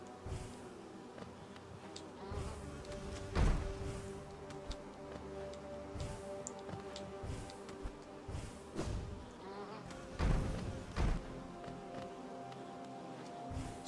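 A bee enemy in the video game Hollow Knight buzzes in a steady drone, with repeated thumps and impacts from combat cutting through the background music.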